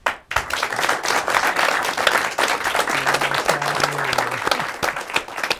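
An audience applauds the board chairman as he is introduced at a public access TV station's annual meeting, steady clapping filling the room throughout, with a faint voice speaking briefly partway through.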